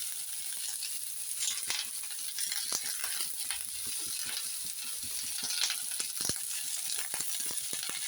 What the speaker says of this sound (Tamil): ஆனியன் வச்சு அதில் லைட்டாக வதங்கவும்